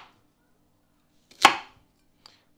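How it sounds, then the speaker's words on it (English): A single sharp knife chop through an apple on a cutting board, one crisp thud-crunch, close and clear, followed by a faint small tap in an otherwise quiet room. "I'm going to start by chopping the apples."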